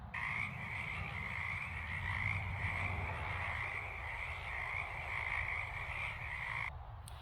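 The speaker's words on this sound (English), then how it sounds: "A frog! Good job!" A frog croaks in a continuous, dense chorus of steady ribbiting calls, close and fairly loud, with no voices over it.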